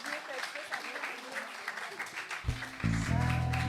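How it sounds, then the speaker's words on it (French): A small crowd claps at a casual drinking-themed gathering, faint and scattered under chatter, before steady tonal sounds take over in the last second. "Une bonne main d'applaudissements à Sabi."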